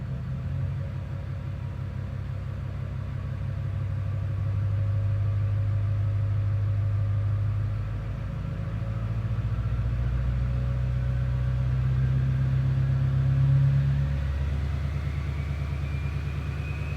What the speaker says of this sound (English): hearing that spool